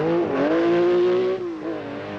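A Peugeot 205 Turbo 16 rally car at the 1985 Tour de Corse revs hard close by, the engine note climbing, dipping briefly, then rising again in a short burst.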